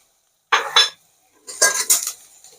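Pork and salt are mixed in a pot with no oil, two short bursts of metal spoon scraping and clinking against the pot, close and fairly loud, separated by a brief silence.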